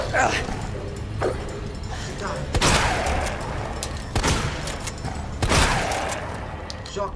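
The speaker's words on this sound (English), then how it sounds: "Shotgun did the trick." Heavy shotgun blasts ring out in the survival horror game Resident Evil 2 Remake, three loud booming shots spaced a couple of seconds apart over a dense, noisy game soundscape, with someone talking throughout.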